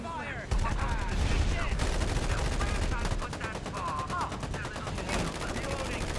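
Rapid video game gunfire rattles in dense bursts alongside game voice lines and effects, with continuous automatic shots layered through a busy battle soundscape.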